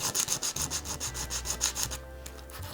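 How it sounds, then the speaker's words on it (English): Guitar nut rubbed back and forth on sandpaper, a steady run of close, rhythmic gritty strokes about five per second that stop near the end, leaving a faint hiss. "Maybe a little on the sandpaper"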